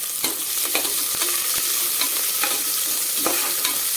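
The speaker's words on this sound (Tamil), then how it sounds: "வெங்காயம் வதங்கி வரட்டும்" Steady hiss of lengthwise-sliced onions sautéing in a pan for tomato rice, with repeated scraping and clinking of a spoon stirring them at close range; no voices.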